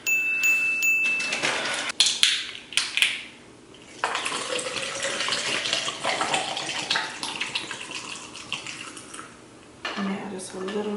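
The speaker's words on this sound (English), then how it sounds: "now I'm gonna just pour the water" Water pours from a container over okra pods in a kitchen, splashing in bursts with short pauses and a few knocks of the vessel, fairly quiet and close.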